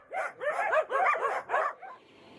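A Finnish spitz barks in a rapid run of five or six sharp, high-pitched yelps, moderately close and clear against a quiet background, trailing off into a softer final yip.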